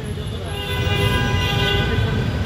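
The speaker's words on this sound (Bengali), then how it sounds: "Mohakhali rail crossing area." A train passes the Mohakhali railway crossing, its rumbling wheels and wagons building to a loud, steady roar with a horn tone, heard up close.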